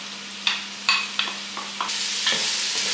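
Bell pepper and onion frying in hot oil in a pan, stirred with a utensil: a series of short scraping strokes over a steady sizzle that grows louder toward the end, close and fairly loud, with no talking.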